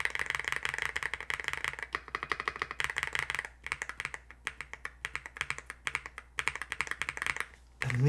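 Rapid clacking of a YUNZII x98 mechanical keyboard with pre-lubed snow switches, soft and smooth keystrokes in quick uneven bursts, close up with no voices.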